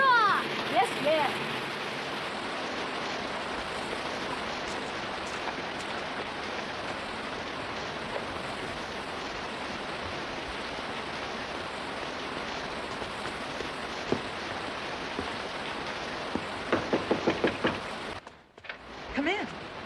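Steady rain falls outside in an old Western setting, a continuous broadband hiss that holds evenly throughout before briefly dropping out near the end, with people talking over it.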